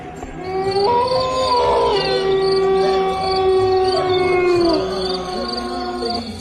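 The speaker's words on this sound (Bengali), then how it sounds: "অমাবস্যার রাত, চারিদিকে ঝিঁঝি পোকার ডাক শোনা যাচ্ছে।" Crickets chirp steadily on a moonless night under sustained, eerie tonal howls and wails, a dense continuous night soundscape with no talking.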